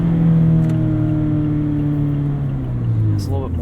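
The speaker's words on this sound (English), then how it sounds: "the engine also sounds a little bit different" A 2017 Mazda MX-5 Miata RF engine drones steadily while driving, a low, fairly loud, continuous tone heard from inside the cabin that rises slightly in pitch as it revs.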